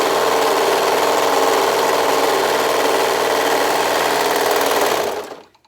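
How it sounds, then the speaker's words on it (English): A serger sews a seam and trims the fabric edge with its knife, giving a loud, close, steady high-speed whirring hum that runs continuously before quickly winding down to silence. "with that knife, I can cut my seam."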